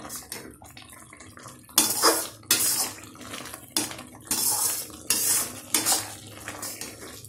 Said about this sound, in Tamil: நெய் சேர்த்து நல்லா கலந்து விட்டுடலாம்.